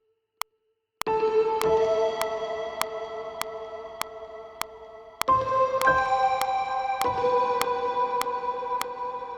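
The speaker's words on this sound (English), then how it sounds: "our 5-note centerpiece played by a hybrid felt piano and a gorgeous synth ping" A five-note motif played on a hybrid felt piano layered with a bright synth ping, soaked in reverb with a wide, spacious stereo feel, notes ringing out after a short silent start alongside a regular ticking pulse.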